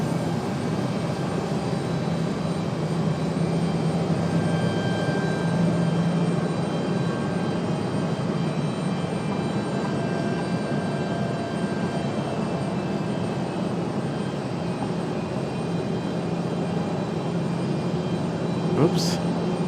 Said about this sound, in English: Looks like a Republic Airways E-175 getting ready to go here.